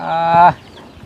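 A hen clucks once up close in a brief, loud, drawn-out call at a rural home where ducks and chickens are kept, trailing off into quiet background.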